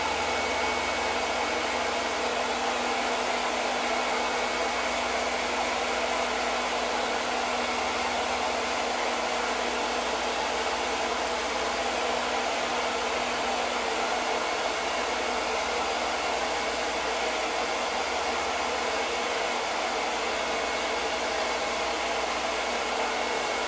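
A hair dryer blows continuously to dry chalk paste on a craft project, a loud, steady whooshing hiss held close for over twenty seconds with no talk.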